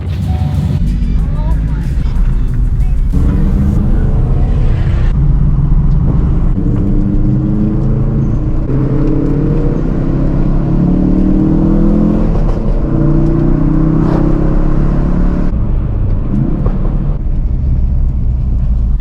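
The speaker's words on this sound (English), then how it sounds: "Sad boy stock exhaust." A Ford Focus RS on its stock exhaust drives along, its engine droning steadily under road rumble, heard from inside the cabin with voices talking over it.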